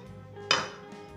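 A single metallic clank rings out as a pot is set down or knocked, against a quiet background.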